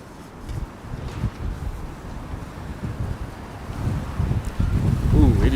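Strong late-night wind rushes through the streets of Midtown Manhattan, a low, rumbling buffet that builds steadily and grows louder toward the end, with a faint voice at the very end.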